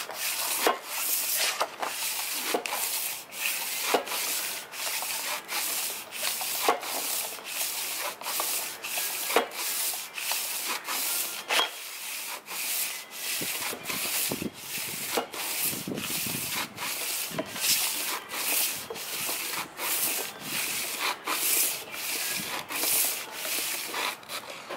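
Sandpaper scrubs the metal of an engine block being cleaned before reassembly, a steady, close rasping rub with regular back-and-forth strokes repeating throughout, with no talking.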